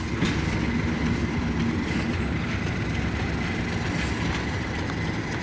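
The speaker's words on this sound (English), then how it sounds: "the 37 is slightly more interesting and has an engine sound slightly better than the 47" Steady diesel drone of a Class 37 locomotive engine on a heritage railway, a continuous throbbing rumble with faint rhythmic rail clatter, moderately close and unbroken throughout.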